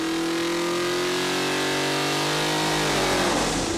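Chevy 427 big block crate engine on a dyno revving from 3,000 to 6,000 RPM, a loud, close roar climbing steadily in pitch to a screaming peak.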